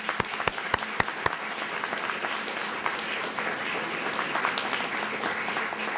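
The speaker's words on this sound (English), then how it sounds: "Let's give them a round of applause, too." A few sharp early claps swell into sustained applause from a press conference crowd, moderately distant and even in level, with no talk on top.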